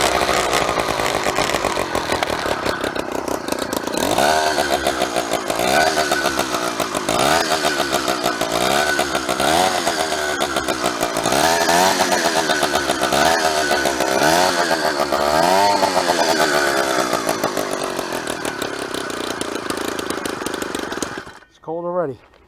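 Small two-stroke engine on a custom motorized bicycle with a jackshaft, choked and running loud and steady up close, its buzzing note rising and falling with revving, then cutting out near the end.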